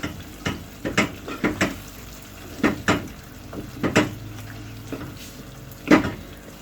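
Eggs beaten for a quick Indian anda pyaz breakfast, a utensil clinking against a bowl in irregular bursts of light taps and scrapes, close and fairly quiet, with no talk.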